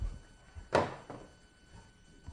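A rifle bolt slides home with one sharp metallic clack followed by a softer second knock, close and fairly quiet against a faint room background.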